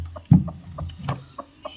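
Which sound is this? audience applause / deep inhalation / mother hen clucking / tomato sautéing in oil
mother hen clucking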